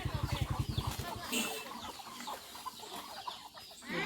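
Free-range native chickens cluck on a Philippine farm, a quick run of close, loud clucks at the start giving way to scattered softer clucking and general yard noise.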